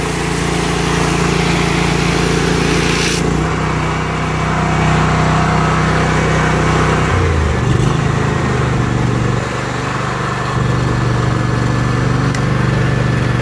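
A pressure washer trailer's engine, rated 8gpm at 3500psi, runs steadily and loudly near the listener in West Palm Beach. Its drone shifts lower partway through, then carries on alone without any talk.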